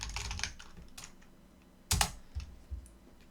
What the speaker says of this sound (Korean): 키보드 소리 너무 시끄럽게 들렸을 것 같은데